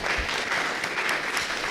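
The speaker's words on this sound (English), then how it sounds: "So how about another round of applause for Debra?" An audience at a Democratic presidential mock debate applauds a Hillary Clinton surrogate, a full, even round of clapping that fills the whole stretch alone.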